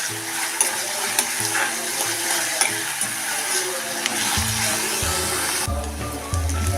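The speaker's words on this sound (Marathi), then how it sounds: "आता हा कांदा चांगला मऊसर होईपर्यंत परतून घेऊया" Onion and curry leaves sautéing in oil in a pan, with continuous sizzle, stirring scrapes and some low clunks near the end, close by and steady with no voices.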